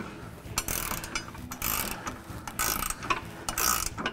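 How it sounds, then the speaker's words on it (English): Wrenches tighten the receiver hitch nuts and bolts on a Jeep Wrangler JK, giving repeated metallic ratcheting clicks at a steady working pace, fairly quiet and close. "Use a 19mm wrench on the nut and an 18 on the bolt."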